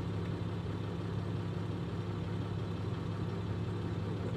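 A scrapyard Citroën C6 engine idles with an odd noise, giving a steady, close, low mechanical drone with constant rumble and no change in pace.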